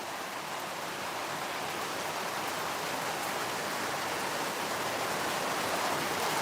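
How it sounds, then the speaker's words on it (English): Light rain falling outdoors, a steady, even hiss of drops with no breaks, fairly soft and without any voices. "Hopefully that's the end of it, and we just get this bit of rain."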